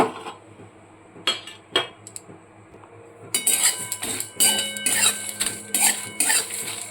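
Whole spices are dry-roasted in a wok on a gas stove for a vegetarian aloo dum. A spatula clinks and scrapes against the metal pan, sparse at first and then in a busier run of close clatter, with no talk.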